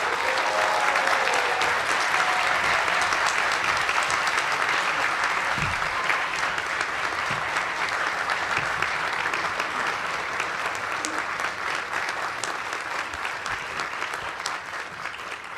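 An audience applauds to welcome Dr. Ngozi Okonjo-Iweala at a lecture event, with sustained loud clapping that holds steady for about fifteen seconds and tapers slightly near the end.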